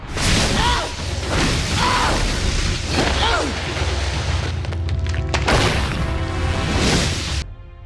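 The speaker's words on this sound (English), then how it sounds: "it sounds like the firebending's back on" Roaring whooshes and booming bursts of firebending flame from an Avatar video game sweep repeatedly through a dense, loud mix of game effects, with a crackling rush near the end.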